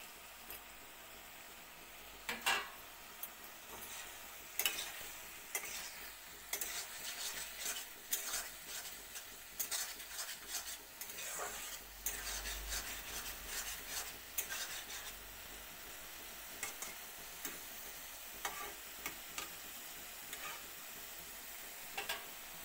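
Fried potatoes are stirred into a pan with green chillies, cardamom and cloves. The result is a quiet, intermittent scraping and stirring over a soft sizzle, with irregular clinks and rubs and no talking.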